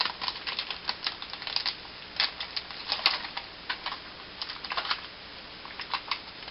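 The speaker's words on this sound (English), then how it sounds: "Let me take it out of the packaging so you can see." Foam rubber stamps are pulled from plastic packaging, giving soft crinkling and rapid clicking rustles in irregular bursts, close but quiet.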